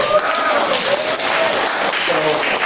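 At the ACLU Wisconsin annual meeting, the audience gives a steady round of applause while a voice talks over the clapping.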